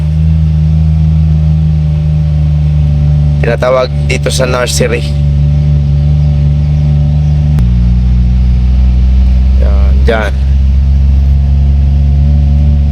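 A car engine runs steadily and loudly throughout while driving on a hot day, with a low, continuous hum and a brief shift in pitch midway; someone talks over it in two short bursts.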